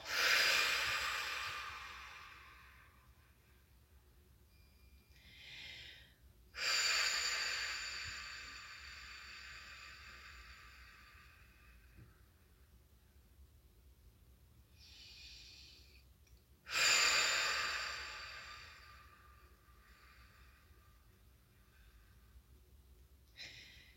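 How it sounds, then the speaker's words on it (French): Slow, deep breaths during a guided relaxation session: three long, loud inhale-exhale cycles spaced several seconds apart, each fading out, with softer breaths in between, heard close in a quiet room. "on n'oublie pas de respirer en même temps"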